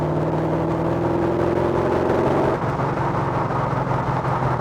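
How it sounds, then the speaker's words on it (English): A car engine fitted with an Edelbrock 500 carburetor revs under throttle. It runs as a loud, steady drone, and the pitch shifts partway through as the engine responds. "The the engine is just responding to that throttle input with acceleration rather than a lull in power"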